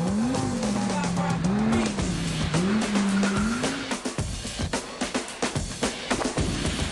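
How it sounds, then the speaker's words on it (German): An all-wheel-drive Lamborghini Gallardo V10 drifting with ESP switched off: a loud, wavering engine note rises and dips while tires squeal, then breaks into choppy pulses near the end. "Dazu erklingt das satte Crescendo des V10."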